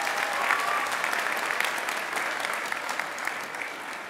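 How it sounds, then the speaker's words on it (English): Applause fills a high school senior assembly hall, a steady, dense wash of many hands clapping at once that holds for several seconds without a break. "So another round of applause for that."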